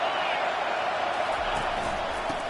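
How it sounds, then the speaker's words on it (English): A football stadium crowd roars on third down of a close NCAA game, a loud, unbroken wash of noise with no breaks for its full length. "Third down, and this crowd is tearing the lid off this place."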